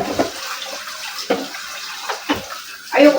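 Washing a cooking pot under running tap water in a home kitchen: intermittent splashing bursts and clatter as the pot is rinsed, close and moderately loud, with a fuller gush of water at the end.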